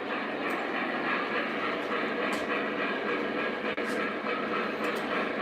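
Lionel model trains, including Y3, GP7 and CC2 locomotives, run slowly on a home layout. A steady close rumbling hum with faint rail clicks continues throughout, and no one speaks.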